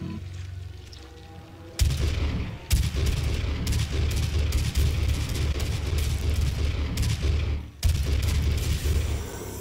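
Rapid, heavy gunfire bursts from the video game DOOM fill the scene, loud booming shots repeating in quick succession with short pauses between volleys.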